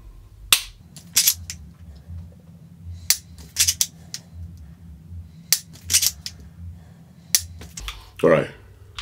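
Five dry fire trigger clicks on a Mantis X10 Elite training system, each a sharp, close snap spaced a second or so apart over a low hum, with faint handling noises in between.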